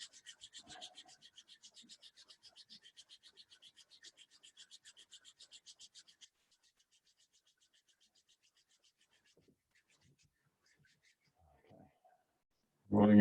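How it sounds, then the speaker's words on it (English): Hands rub together briskly during a tai chi and qigong warm-up, making a steady, rhythmic swishing of skin on skin for about six seconds, close and soft, before fading into near silence. "rubbing your hands."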